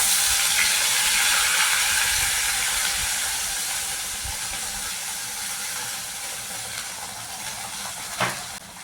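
Ground paste for prawn kebab poured into hot oil, a loud broad hiss that sizzles strongly at first and slowly fades, with a brief scrape near the end and no voices.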